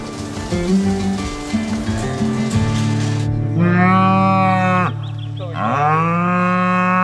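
Dairy cows on a farm in Margaret River, Western Australia, moo loudly and nearby, several long drawn-out calls overlapping one another in succession.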